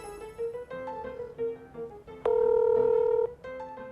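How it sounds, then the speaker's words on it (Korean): A phone dialed to place a call gives a quick run of short keypad tones followed by one longer steady tone, loud and clear with no voices. "일단 전화해볼게요."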